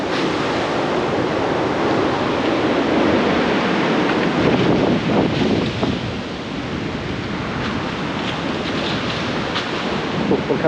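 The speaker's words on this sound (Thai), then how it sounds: "อ๋อเสียงลม" Strong wind roars steadily into the microphone, broad and rushing, with gusty buffeting throughout and no voices.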